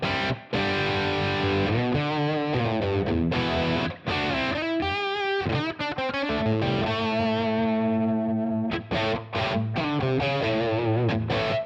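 Gibson Les Paul Standard electric guitar through a Helix Placater Dirty amp model with a touch of ambience, loud distorted rock riffing with chugging chords and short pauses, close and alone.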